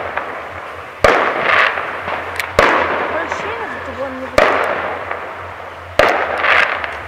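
Fireworks exploding on New Year's night, four sharp loud bangs spaced a second or two apart, each followed by crackling and a fading rumble, with people talking faintly in between.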